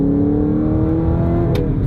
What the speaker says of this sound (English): this V8 sounds glorious.